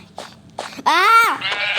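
A sheep in the Minecraft video game gives a loud, close, wavering bleat lasting about half a second, preceded by brief softer sounds and followed by a trailing tail of noise.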